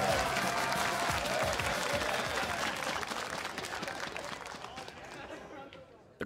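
A large crowd applauds and cheers at a League of Legends esports match, a dense roar of clapping that slowly fades over several seconds while a commentator talks over it.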